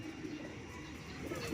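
Pigeons cooing inside a loft, soft low repeated coos blending into a faint steady murmur, close but quiet throughout.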